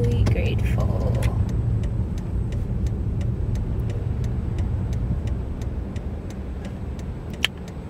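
A Honda Jazz is heard from inside the car: a steady low engine and road rumble with a regular ticking indicator click, and a voice briefly at the start.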